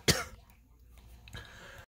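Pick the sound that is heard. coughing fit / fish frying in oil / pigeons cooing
coughing fit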